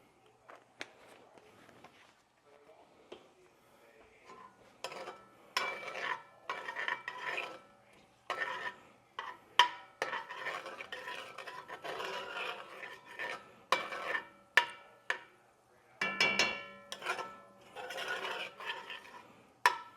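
Chopped onions seasoned with celery salt are sautéed in a pot for chicken pot pie. Scraping and stirring scrapes, light clinks and soft sizzle come in irregular bursts, quiet at first and busier later.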